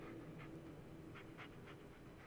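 Bullet the dog panting in the autumn forest of the game Blair Witch, a faint run of short breathy pants in uneven bursts over low background ambience.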